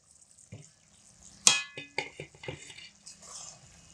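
A spoon clinks and scrapes in a pan of vegetable curry made with drumstick stalks and potato, a few scattered knocks and scrapes with one sharp metallic clink, fairly quiet against a near-silent background.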